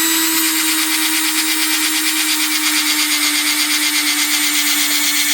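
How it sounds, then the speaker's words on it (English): A power drill fitted with a dull bit bores into a lawn mower's battery area, making a loud, steady motor whine with a constant grinding rasp and no pauses. "So I'm going to drill a hole right here."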